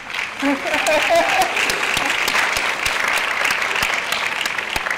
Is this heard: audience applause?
yes